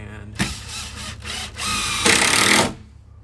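A power drill driving 1.5 inch screws through plywood into studs on a skateboard quarter pipe ramp, several loud close whirring bursts that rise in pitch, with short pauses between them.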